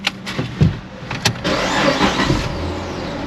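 A 2006 Chrysler 300, just fitted with a rebuilt 42RLE transmission, cranks with a few quick bursts, then catches and settles into a steady, close engine run.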